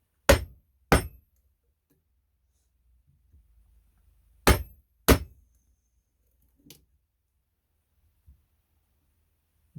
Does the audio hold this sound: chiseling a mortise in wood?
yes